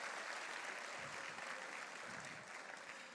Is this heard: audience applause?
yes